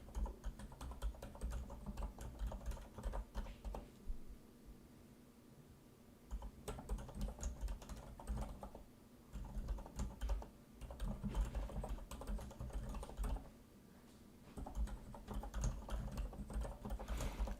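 Computer keyboard typing during a coding session, bursts of rapid clicky keystrokes with short pauses between runs, close and moderately loud, no voices.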